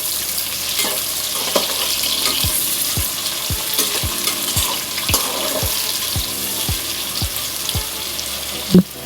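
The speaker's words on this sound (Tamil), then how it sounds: "வெங்காயம் நல்லா வதங்கட்டும்" Onions sautéing with garlic in a pan for a chicken gravy, a loud continuous sizzle with a regular series of low knocks as the spatula turns them, ending in one sharper clank, with no speech.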